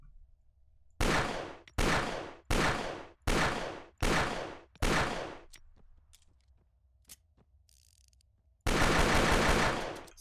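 Colt Lawman Mark III .357 revolver in the ArmA 3 Unsung Vietnam mod, six loud, evenly spaced shots with ringing tails, then quiet clicks of handling and a final long burst of noise.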